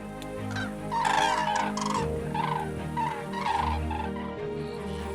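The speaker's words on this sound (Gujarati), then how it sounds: "મિત્રો હું વાત કરી રહી છું કુંજ પક્ષીની" Common cranes call at Nal Sarovar lake, a continuous chorus of bugling, gobbling cries that rises and falls in waves, fairly close and loud without any talk.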